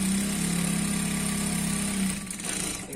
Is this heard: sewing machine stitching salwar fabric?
yes